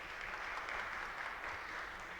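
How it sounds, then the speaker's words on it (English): Conference attendees at a tourism and hospitality technology event applaud the speakers, the steady, even clapping of a sizable audience sounding a little distant and continuing throughout. "A big round of applause for all the eminent speakers."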